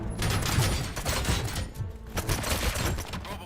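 Rapid gunfire from the RoboCop Rogue City video game: dense, loud volleys of overlapping shots with scarcely a pause, tailing off briefly before another burst.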